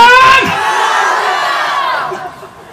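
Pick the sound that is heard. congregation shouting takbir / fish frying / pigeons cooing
congregation shouting takbir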